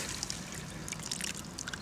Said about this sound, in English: we'll use some of that soil water, muddy water, we'll puddle them in